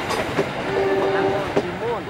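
The Serayu passenger train rumbles past Cicalengka station with steady wheel and rail noise and a sustained horn tone, under light background talk.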